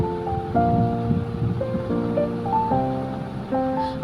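Keema-stuffed potol frying in oil in a pan, a steady soft sizzle running throughout with faint clinks and tonal kitchen noises over it.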